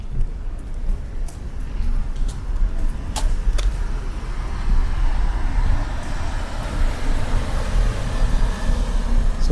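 A Tesla car moves slowly through a busy store parking lot on Smart Summon, a steady broadband rumble of tyres and road noise with a couple of faint clicks, outdoors and fairly loud.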